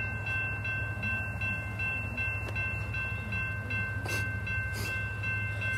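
A loaded BNSF coal train led by an SD70ACe locomotive rumbles past a crossing at 27th Street, a steady low drone with a ringing crossing bell and a brief horn blast, heard from nearby.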